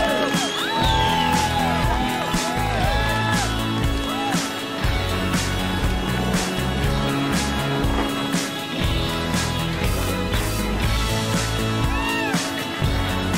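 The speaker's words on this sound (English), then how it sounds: "So give her a big round of applause for Canada's" Dense crowd cheering, whooping and clapping at a Dew Tour women's ski modified pipe final podium, steady and loud throughout with an announcer's voice mixed in.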